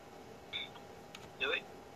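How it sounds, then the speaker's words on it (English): iPhone alarm notification sound, two brief bright tonal chimes a second apart, faint and close, over quiet room background. "that was Maggie's let the dogs out alarm."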